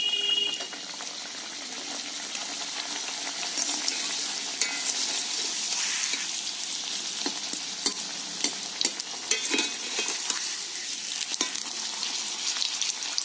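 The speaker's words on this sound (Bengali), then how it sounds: "পাঁপড়গুলোকে ভেজে নেব।" Papad frying in hot oil in a wok, a steady crackling sizzle with bursts of stirring and popping that holds for the whole stretch, close and fairly loud with no one speaking.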